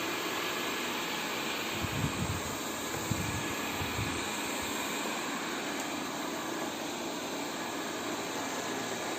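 A Xiaomi Mi Robot Vacuum Mop Pro surveys a room with a soft, continuous whirring hum. The sound is fairly quiet and steady throughout, with no voices.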